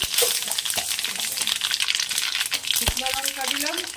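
Mustard seeds and dry red chillies splutter and crackle in hot oil over a low gas flame while tempering for Punjabi kadhi, a close continuous sizzle with a voice talking over it.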